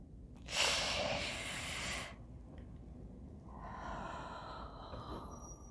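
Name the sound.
breathing while wearing a corset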